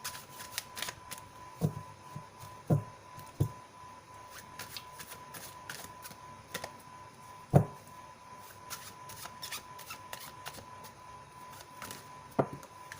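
A deck of tarot cards is shuffled close by, making soft riffling and flicking sounds with scattered sharper taps, quiet and uneven, with no talking.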